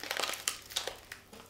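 A milkshake sachet torn open by hand along its easy-tear notch, a close, bright burst of crinkly plastic rustling and ripping in quick irregular bursts, heard alone.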